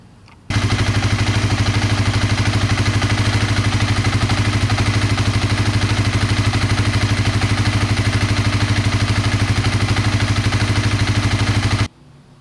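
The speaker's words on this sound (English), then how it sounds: "so we'll start the bike up and then we'll recheck the level" A 2015 Honda CB300F motorcycle engine fires up and settles into a steady, even idle, its rapid throbbing pulse running close and loud for about eleven seconds before cutting off.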